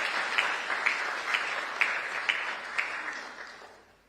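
An audience at a State House appointment ceremony clapping, a moderate crowd of steady hand claps with a few sharper individual claps, fading out toward the end.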